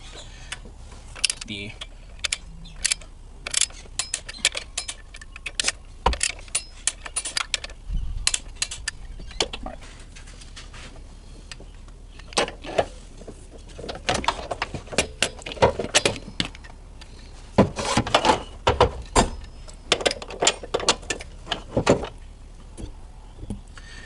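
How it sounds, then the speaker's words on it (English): A torque wrench ratchets motor mount bolts to 45 foot-pounds on a Dodge Dart with a 2.0L or 2.4L engine, passenger side, with bursts of close clicking and metallic clatter and someone talking at times. "We are going to tighten these to 45 foot-pounds. Alright, I have my torque wrench here."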